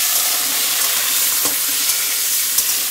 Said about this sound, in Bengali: এবার এর মধ্যে সাদা তেল দিয়ে দিচ্ছে মা। অল্প একটু দিয়ে দিলাম, অল্প দিয়েছে। এই যে কি বলে আলুগুলো ভেজে নেবো।